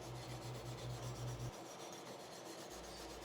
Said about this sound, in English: the rest of it comes off just by brushing it with the wire brush